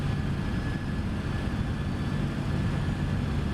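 An MD-11 airliner's jet engines roar at takeoff power in Microsoft Flight Simulator 2024, a steady, loud, broadband rumble heavy in the low end that holds constant without pause.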